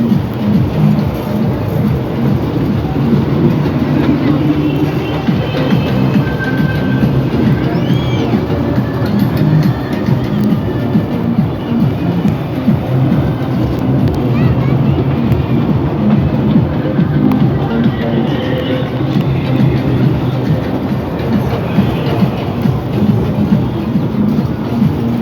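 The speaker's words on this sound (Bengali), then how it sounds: "ট্রেন চলছে" A moving train rumbles steadily, a loud, continuous low roar with faint rattling throughout, heard from on board with no clear talk.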